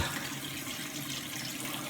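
Hot water runs from a kitchen tap in a steady, soft, continuous flow, heard close with no speech.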